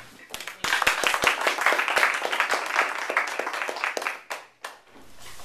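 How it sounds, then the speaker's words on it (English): A large round of applause for a poetry reader at an evening Toastmasters Halloween meeting: sharp individual claps start it, then dense clapping swells and fades with a few stray claps at the end. "Let's uh, get a large round of applause for Bonnie Summer"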